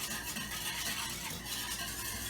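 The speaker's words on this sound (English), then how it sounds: "You're gonna whisk it in until it dissolves." Steady, rapid scraping and swishing of a whisk dissolving yeast in warm water in a bowl, continuous and close, with no talking.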